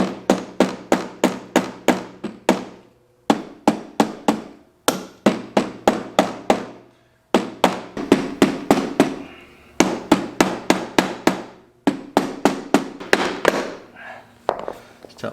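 A hammer taps repeatedly on the cylinder head of a 2004 Honda CRF150F, striking in quick bursts of sharp metallic knocks separated by short pauses as blows shift from side to side.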